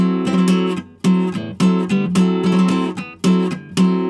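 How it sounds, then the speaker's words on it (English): Close nylon-string guitar strummed with a four-stroke rasgueado, rapid rolling flamenco flurries of finger strokes punctuating steady chords, with no voices. "Or if I want to use the four-stroke rasgueo,"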